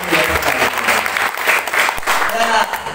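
A church congregation claps during an Indonesian sermon, a short burst of close, energetic crowd applause filling the space, with a voice partly mixed in.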